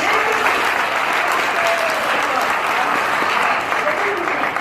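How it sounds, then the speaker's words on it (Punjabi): An audience at a Punjabi stage play claps in loud, sustained applause that fills the whole stretch, dense and steady. "ਫਿਰ ਨੁਸਰਤ ਸਾਹਿਬ ਵਾਸਤੇ ਤਾੜੀਆਂ ਕਹਿੰਦੇ ਨੇ"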